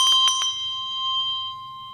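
Bells ring during a church worship service, about four quick struck tones in the first half second, then a long sustained hum that fades slowly with no voices.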